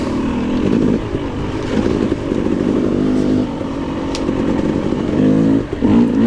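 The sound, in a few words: KTM 300 dirt bike climbing a muddy hill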